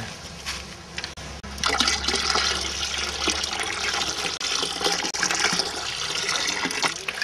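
Water gushes and splashes steadily as liquid is poured out in a heavy stream, loud and close, after a brief quieter start.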